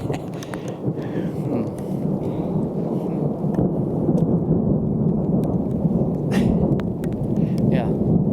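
Steady rain with low rumbling thunder from a big storm on a backcountry trail in the Rockies, a continuous broad wash with scattered sharp drop hits throughout.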